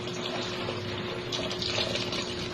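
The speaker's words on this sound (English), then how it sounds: "And so now let's add in more water." Water pours into a cooking pot for sopas porridge, a steady close splashing rush with no talk.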